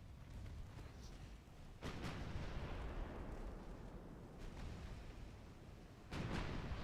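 Naval gunfire in the warship game Ultimate Admiral: Dreadnoughts: heavy booming salvos at about two and six seconds over a continuous low rumble, with a fainter distant shot between them.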